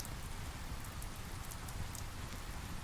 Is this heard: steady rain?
yes